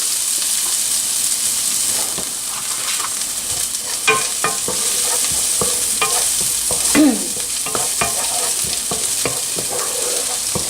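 Onion and chopped garlic frying in a pan with little oil, a steady close sizzle broken by repeated scrapes and clicks of a utensil stirring, continuous and moderately loud, with no talking.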